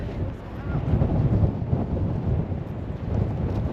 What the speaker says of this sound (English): Hopefully you can hear me because it's very windy again